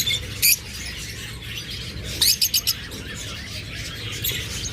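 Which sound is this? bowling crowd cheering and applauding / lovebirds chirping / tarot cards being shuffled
lovebirds chirping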